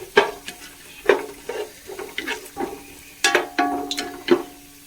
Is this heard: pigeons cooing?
no